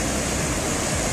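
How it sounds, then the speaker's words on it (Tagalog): Strong sea waves at Pyrgi Long Beach make a loud, continuous broadband roar of surf close by, with no voices over it. "Lakas ng alon."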